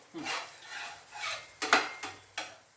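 An adai dosa made with drumstick leaves is flipped and scraped on a hot pan, producing several close scraping and clinking strokes over a soft background sizzle.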